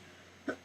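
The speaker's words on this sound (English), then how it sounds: "gotta keep clearing my throat" A single short throat clearing, a brief close burst standing out from quiet room tone.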